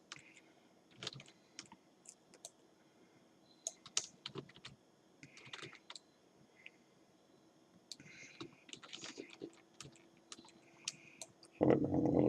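Computer keyboard shortcut keys pressed while working in Blender: scattered, close clicks and taps in short bursts across a quiet background, with a louder thump near the end.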